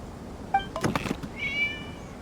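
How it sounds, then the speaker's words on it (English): A cat in the Genshin Impact video game, at the Irodori festival, lets out a short meow followed by a louder, drawn-out one, with a few soft thuds between them and no voices. "It was just a cat."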